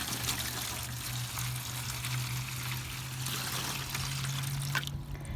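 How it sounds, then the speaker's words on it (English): Water pours steadily into a container for floating chalk prints, a close, continuous splashing trickle with a faint hum underneath, then stops abruptly near the end. "I'm going to first start by filling my container with some water"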